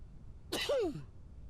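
A video game character lets out one short sneeze, a sharp burst that ends in a falling, voiced whine, with quiet surroundings before and after.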